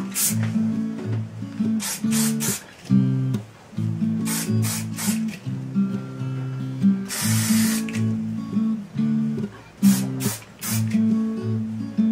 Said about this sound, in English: Spray a little and work it in.